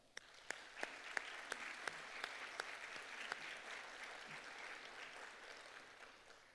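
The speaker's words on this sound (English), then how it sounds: "Help me give them a round of applause." Audience applause at a 2023 city council candidate forum for ward candidates, a run of scattered claps building into steady clapping from a moderately sized crowd, fairly distant and soft throughout.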